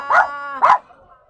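Two deep, loud barks from a big dog, close and about half a second apart, then quiet.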